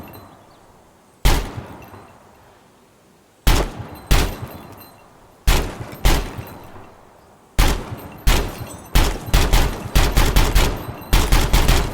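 Gunfire from a firearm in Gunsmith Simulator: loud, sharp single shots with short echoing tails, spaced slowly at first and then faster into rapid bursts near the end, no voices.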